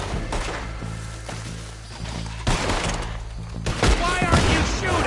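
Gunfire shootout in the video game Red Dead Redemption 2, a loud volley of repeated shots and impacts with a few heavier bursts, mixed with shouting voices.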